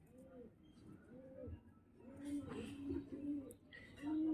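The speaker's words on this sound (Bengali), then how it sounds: "আমাদের এই পায়রা দেখো" Pigeons coo close by in a series of repeated soft, rolling calls, and a voice talks over them.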